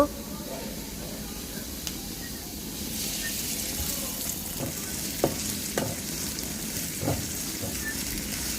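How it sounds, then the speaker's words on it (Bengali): Onions frying in oil for a Bengali egg curry, a steady close sizzle with occasional utensil clicks and stirring scrapes throughout. "পেঁয়াজটা ভালো করে ভাজবো"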